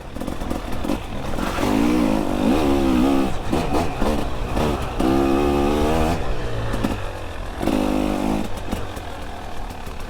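A KTM or Husqvarna 300 two-stroke dirt bike engine revs hard on a rutted trail, loud and close, with repeated rising and falling throttle blips and bursts over a continuous buzzing drone.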